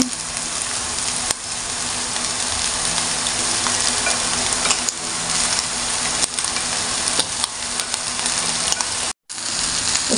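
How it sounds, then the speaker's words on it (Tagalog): Rice stir-fried with vegetables and eggs for chowfan sizzles loudly and steadily in a hot pan, a dense continuous crackle with occasional scraping clicks from stirring and a brief dropout near the end, and no voices. "Haluin nga lang natin mga mare para mag-mix yung ating mga veggies at mga eggs sa ating kanin"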